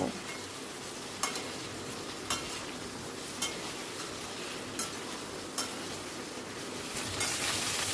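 Taro pieces frying in hot oil give a steady, dense sizzle, while a utensil stirs through the pan with sharp scraping clicks roughly every second, close and fairly loud.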